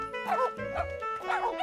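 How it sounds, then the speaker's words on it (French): Cartoon dogs yip and bark playfully in a French-dubbed children's animated show, with quick, close, bouncy barks layered over background music. "Les chiens avaient plutôt l'air de s'amuser."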